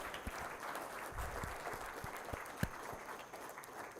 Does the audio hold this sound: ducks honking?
no